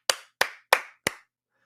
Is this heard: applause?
yes